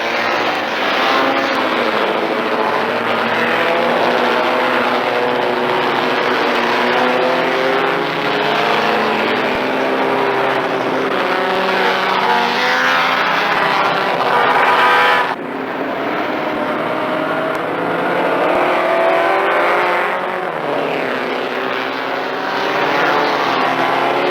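A Triumph Spitfire race car engine screams at high revs on a racing circuit, rising through the gears in long sweeping climbs, loud and close, with a brief drop around the middle before it winds up again.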